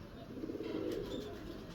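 Pigeons in a loft of breeding pairs, settled in the evening dark, coo softly and continuously at a faint, steady level, with a low rolling murmur throughout.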